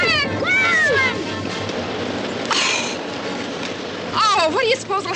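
A black cat meows a few times near the start and again near the end, set against a steady background of rain and rumbling, with voices calling out amid the noise.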